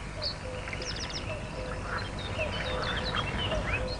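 A flock of geese, fluffy young birds mingling with adults on a swampy meadow, gives off a scattered chorus of soft honks and calls over a steady background hum, moderately distant.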